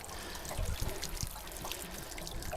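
Water trickles and pours steadily as a Roadtrek 190 hot water tank drains, with flakes of old anode rod washing out, a continuous splashy stream close by.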